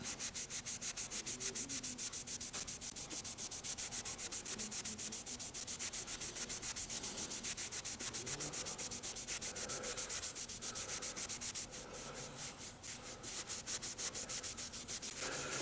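Cold blue rubbed onto a piece of steel by hand, a fast, even, continuous scrubbing rhythm held close and steady for the whole stretch.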